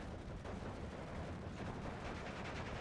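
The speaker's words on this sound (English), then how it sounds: "And now the support guns start rumbling as well." Support guns rumbling in the Steel Division 2 WWII strategy game, a dense, low, continuous roar of distant artillery fire rolling on without clear individual shots.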